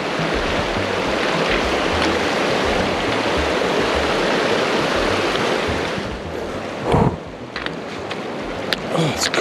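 Rushing river flowing through a wilderness valley, a broad steady wash of water close by, with a few brief thumps and rustles near the end.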